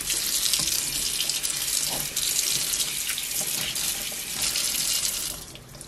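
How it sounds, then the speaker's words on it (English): Cold tap water runs in a steady, fairly loud stream over freshly churned soft butter in a kitchen sink, with a constant hiss and no talking. "now one more round under cold water"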